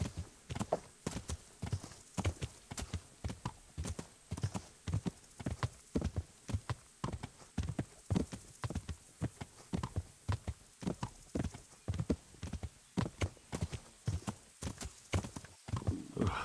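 Rhythmic horse hoofbeats in the video game Kingdom Come: Deliverance clip-clop at a steady trotting pace throughout, crisp and fairly close, with no talking.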